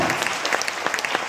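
Brief burst of concert audience applause at a jazz and blues festival after a performance, thick steady clapping with a few sharper individual claps standing out.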